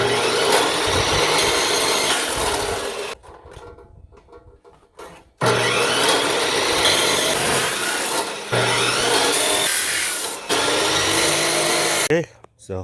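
Saw cutting through a length of steel for rock sliders on a first-generation Toyota Sequoia, loud and steady in long runs broken by short pauses.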